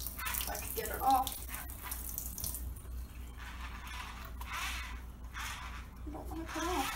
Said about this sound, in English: I'm gonna rinse it off to keep them clean.